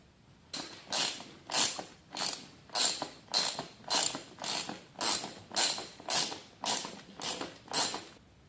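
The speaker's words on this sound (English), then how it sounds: "ratchet it down through the roofing material securely into the truss material underneath" A ratchet drives roof mounting studs through roofing material into the truss beneath, giving about twelve evenly spaced bursts of rapid clicking, close and clear with no talk.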